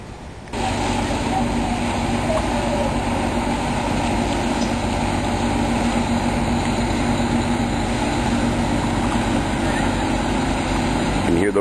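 Steady, loud low rumble of a Niagara whirlpool jet boat's 1,500 horsepower Hamilton engines, droning continuously with broadband roar and no pauses, close by.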